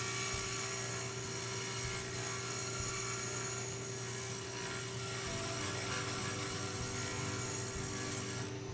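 A rotating dental burr whirs continuously at high speed while trimming a diagnostic dental cast, a steady close drone with a strong hum and no pauses or voices.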